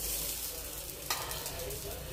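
Mung bean tikki pan-roasting until crisp, a steady soft sizzle with faint stirring or scraping throughout and a brief brighter crackle partway through.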